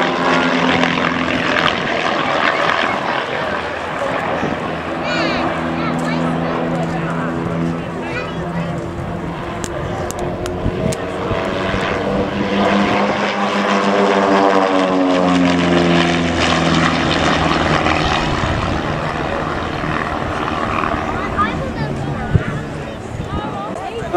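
Propeller aircraft of the Trig Team fly in tight formation at the Biggin Hill Airshow, with a loud, continuous engine drone that swells and shifts in pitch as they pass, while an announcer talks over it.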